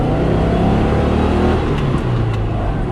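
Porsche 356 engine winding up as the car accelerates: a loud, close, continuous drone whose pitch climbs steadily, with a brief dip and a gear-change shift partway through.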